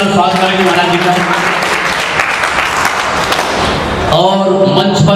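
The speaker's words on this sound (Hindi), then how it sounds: "सब लोगों से निवेदन करूंगा कि जो जोरदार तालियों द्वारा स्वागत करेंगे महाराज जी का" Loud, dense applause from a large gathering at a Vishwa Hindu Mahasangh assembly at Kalkaji Mandir, welcoming a Mahant; continuous clapping dominates, with an amplified voice briefly audible over it.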